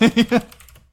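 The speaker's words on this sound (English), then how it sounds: "Pardon my my typing." Typing on a computer keyboard, three quick, fairly loud keystrokes close to the microphone, then a fading tail of softer clicks.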